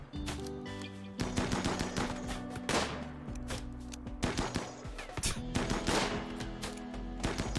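Rapid bursts of gunfire in an old-fashioned firing-line battle video game, sharp repeated shots and volleys crackling in clusters throughout, fairly quiet overall with no talk.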